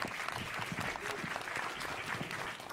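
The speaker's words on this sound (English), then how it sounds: "round of applause for Dr. Chettipally" A room audience applauds a speaker at a medical technology talk, a dense, even wash of many hands clapping steadily, heard at some distance throughout.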